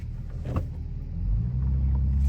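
Inside a Lexus GS300 while driving, a low engine rumble fills the cabin, with a brief thump early on and the drone rising and steadying as the car shifts gears.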